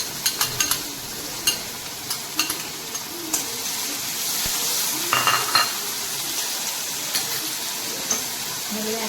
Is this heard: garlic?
yes